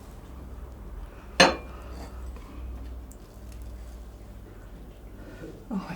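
A knife cuts into a home-baked lemon drizzle cake with a crisp sugary top. One sharp metallic clink against a plate or tin stands out, followed by soft crunching and scraping, and a fainter knock near the end.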